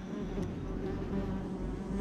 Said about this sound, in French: c'est un tout petit insecte, plus petit que le frelon, environ 2-3 cm la guêpe